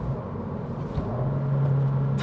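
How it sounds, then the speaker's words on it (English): A 2025 Honda Civic Si engine downshifting, a steady low rumble from inside the car that swells as revs rise and settle into a sustained droning hum, with no voices. "A couple more downshifts."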